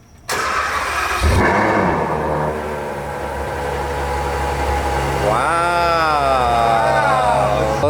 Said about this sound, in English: I'll show you the cold start.